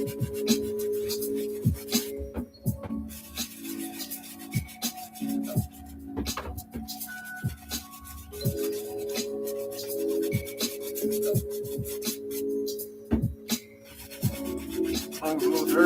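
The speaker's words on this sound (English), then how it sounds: "This soft bristle brush is amazing." A soft bristle brush scrubs Nike and Jordan sneakers during cleaning prep, giving repeated close rubbing and scraping strokes in an uneven rhythm, with brief pauses and a few light knocks between passes.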